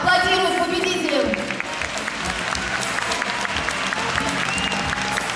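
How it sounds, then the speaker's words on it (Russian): Audience applauding award winners at a Moscow sports awards ceremony, a steady wash of many hands clapping throughout, loud and continuous, with a voice briefly audible at the start. "Аплодируем победителям."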